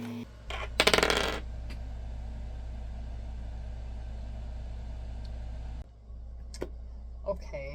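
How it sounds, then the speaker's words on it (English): A D20 die clatters briefly on a surface in a sharp rattling burst, followed by a few faint clicks over a steady low hum. "I rolled a 12, and we have 3 more rolls to see if we can get 20"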